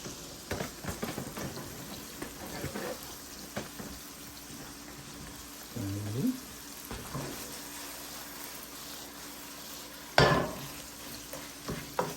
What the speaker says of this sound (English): I gotta go over here and stir this beef first